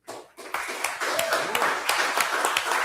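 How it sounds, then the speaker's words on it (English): Audience at a South Gate city council meeting applauding a school's certificate of recognition, a steady patter of clapping from a modest crowd after a brief quiet start. "You can applaud there."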